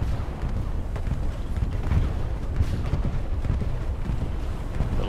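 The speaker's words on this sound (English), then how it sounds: "Watch out, friendly bombing run." Friendly bombing-run explosions in a tank video game, a continuous rumbling barrage of deep booms and rolling blasts at steady loudness with no gaps.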